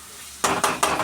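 A spatula scrapes and clatters in a pan three times in quick succession as ginger garlic paste is stirred in for a spicy crab curry, with sharp, close metallic strokes over a quiet background.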